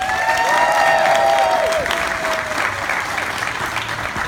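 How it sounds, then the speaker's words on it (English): Loud, dense applause with some cheering from a large crowd at a space-themed opening ceremony honoring astronauts, sustained throughout, with a few whistles rising above the clapping. "let's have another round of applause for our astronauts and Cosmic Quest team captains"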